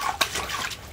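Cold water running from a tap or shower, a steady close splashing hiss with brief louder bursts, no voices.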